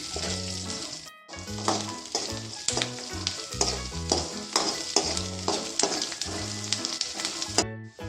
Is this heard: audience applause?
no